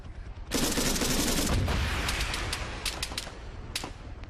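Arma 3 King of the Hill rifle fire erupts suddenly into a loud, dense fusillade of sharp cracks, then thins into scattered individual shots and short bursts that keep popping over several seconds.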